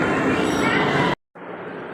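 Mumbai local train running loud and close, a dense rumbling rattle that cuts out abruptly for a moment before resuming a little quieter, with no clear talk over it.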